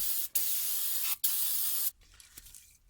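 Brake cleaner sprayed from an aerosol can onto the front brake caliper of a 2010–2014 Honda Insight, three sustained hissing bursts separated by short gaps, close and clear, followed by quieter handling noises.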